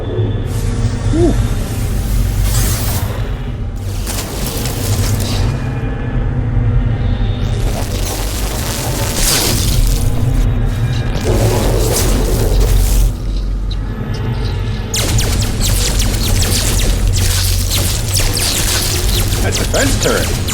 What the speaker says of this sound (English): Defense turret.